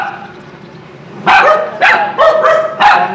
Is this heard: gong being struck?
no